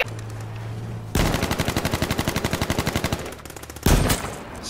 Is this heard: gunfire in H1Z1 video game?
yes